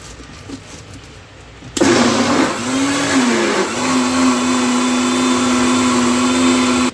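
Electric blender grinding juice in a home kitchen switches on abruptly and runs as a loud, steady high whine after a quiet start, with a brief dip in pitch as the load shifts.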